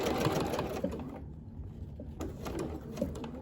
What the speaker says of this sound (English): So we're gonna sew right over that.